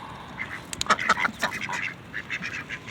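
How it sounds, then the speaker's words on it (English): A large goose calls repeatedly at close range, a run of short honking quacks in an uneven rhythm over a steady outdoor background, with occasional faint talk nearby. "Look at that big goose."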